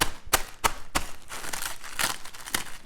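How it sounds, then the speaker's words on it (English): Corn chips crushed by hand inside a zip-top plastic sandwich bag, sharp crinkling crunches in a rough rhythm of bursts about every third of a second, close and fairly loud, with no talking. "You want to crush them as fine as you can get them."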